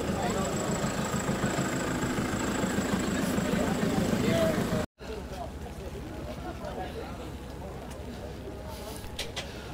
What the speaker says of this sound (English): That big tractor there.